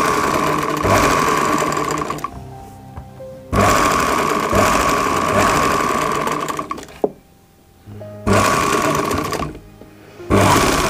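Sewing machine stitching a cuff sleeve on a ladies' suit, loud close mechanical whirring in three long runs separated by short pauses, alone.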